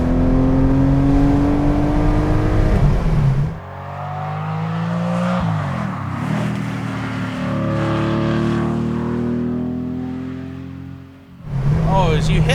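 Air-cooled Porsche 964 engine revving hard, its harmonic note climbing steadily as the cam comes on around 5,500 RPM, loud and close from inside the cabin, dropping away briefly near the end before picking up again.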